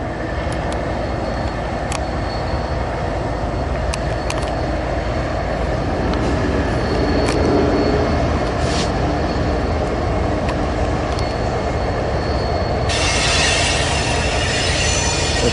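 A westbound freight train rolls past at Ashland, Nebraska, with a steady loud roar of wheels and cars, metallic squeals rising through the passage and a sharper screech near the end.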